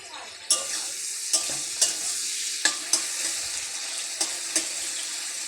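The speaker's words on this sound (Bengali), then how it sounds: "তারপরে তেজপাতা, একটু জিরে দিয়ে পেঁয়াজ দিয়ে ভালো করে নাড়াচাড়া করে" Bay leaf, cumin and chopped onions fry in a pan over a steady sizzle, while a spoon scrapes and knocks against the pan in a series of sharp, irregular strokes up close.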